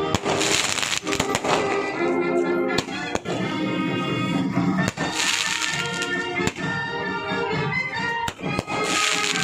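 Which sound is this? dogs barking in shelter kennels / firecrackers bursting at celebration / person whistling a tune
firecrackers bursting at celebration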